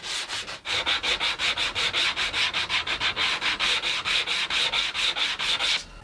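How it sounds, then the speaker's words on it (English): Wooden parts for a saddle stand are hand sanded with quick, even back-and-forth rubbing strokes, close and steady, roughly four strokes per second throughout. "followed by a little bit of hand sanding to break the edges, smooth the corners"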